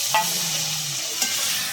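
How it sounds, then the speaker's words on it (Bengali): Cut eggplant sizzles in hot oil with fried onion in a pan while a utensil stirs it, producing a steady frying hiss with a couple of brief scraping clinks. "বেগুনটা একটু ভালো করে ভেজে নেবো"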